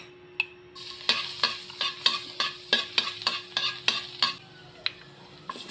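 Garlic frying in butter in a pan for chicken afritada, heard as a soft sizzle under a steady run of rhythmic spoon scrapes and stirring clacks, close and moderately loud.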